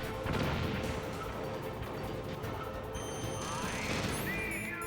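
A Stinger missile launcher fires in the video game Metal Gear Solid, producing a loud, dense, continuous blast-like roar with electronic game tones rising near the end.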